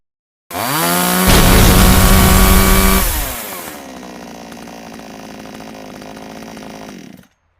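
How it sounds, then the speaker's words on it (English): A chainsaw revs loudly and cuts into a laptop, a harsh dense roar for about three seconds, then drops to a steadier idling whine that runs on until it cuts off. "Shiraishi, you can't chainsaw my laptop"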